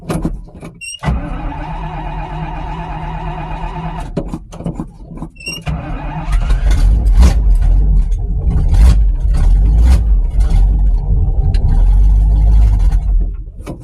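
A hot rod engine cold-starts on a cold day after a couple of throttle pumps: cranking whirs and stops twice, then the motor catches and settles into a loud, steady, rumbling run close by.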